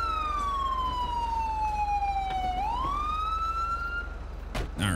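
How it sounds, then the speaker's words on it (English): A police car siren in GTA 5 wails loudly and alone, a long sweeping tone that falls and rises once before cutting off near the end. "I'm going to turn off my siren here in a second here."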